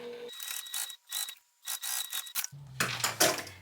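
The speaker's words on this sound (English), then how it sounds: "I'm going to start sewing on one side, make sure I backstitch, and sew all the way across to close it up" A sewing machine stitches across the opening of a fabric pouch's lining with a backstitch. Several short bursts of rapid mechanical whirring and clatter are separated by brief pauses, close and fairly quiet, with no talking.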